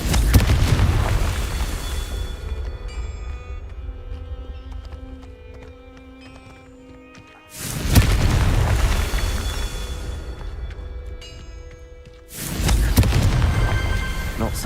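Confringo spell explosions in Hogwarts Legacy, heavy booming blasts that roar and rumble, three loud bursts spaced several seconds apart with fading tails between them.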